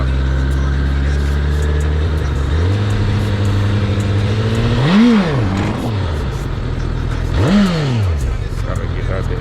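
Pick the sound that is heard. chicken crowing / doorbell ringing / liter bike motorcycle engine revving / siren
liter bike motorcycle engine revving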